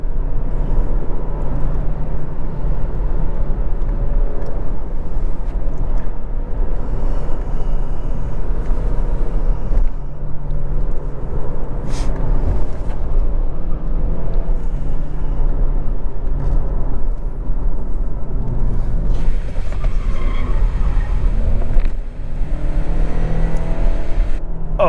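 A steady, loud engine and road drone from inside a 2022 Lexus ES300h F-Sport hybrid sedan taken through corners, with continuous tyre and wind noise and slight swells of revving, no talk.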